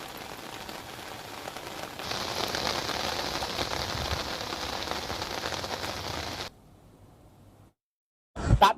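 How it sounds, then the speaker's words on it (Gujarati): Heavy monsoon rain pours steadily across Tapi district's Dolvan and Valod talukas, a dense, loud hiss that thickens after a couple of seconds, then cuts off abruptly, leaving near silence before a short loud burst at the end. "ખાસ કરીને ડોલવણ અને વાલોડ તાલુકામાં ભરપૂર વરસાદ પડ્યો છે"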